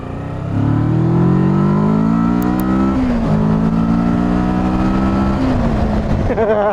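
A 2021 Kawasaki Versys 650 motorcycle accelerating hard on the road, its engine note climbing through the gears with a brief dip at each shift, loud and steady from the rider's position.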